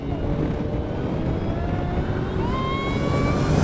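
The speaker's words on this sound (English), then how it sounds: "I hope you can hear the gunshot reports from the exhaust as well," A 2014 Ariel Atom 3.5R engine revving with a buzzsaw whine and exhaust reports, a continuous moderately loud drive with rising pitch sweeps under a rough low rumble.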